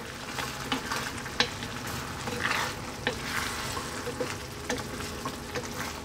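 Sardines cooking with kangkong and vinegar in a pan give off a busy sizzle while a spoon stirs them, and sharp scraping clicks land at irregular moments over the steady frying hiss. No one speaks.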